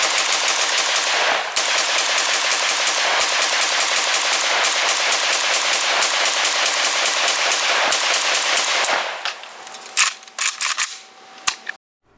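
Sustained rapid automatic fire from an FM RPK 74 rifle, loud and close, a long continuous burst for about nine seconds followed by a few scattered single shots and mechanical clicks.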